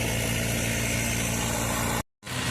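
A newly bought tractor's engine runs on a farm with paddy and mustard crops, a loud, steady, close rumbling drone that drops out briefly near the end before resuming.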